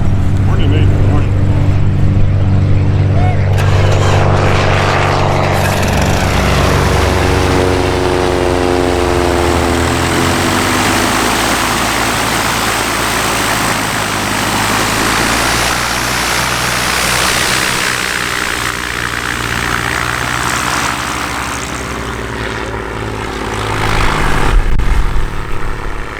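Small propeller planes including a Cessna approach and land at the Oshkosh AirVenture airshow, a loud droning engine whose pitch slides as the aircraft passes close by, then swells again near the end.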